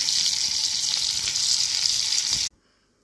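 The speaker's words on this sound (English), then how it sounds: "we're gonna fry this for like 4 minutes before we can eat it" Salmon fries in garlic butter with a loud, dense, continuous sizzle that cuts off abruptly near the end, leaving near silence.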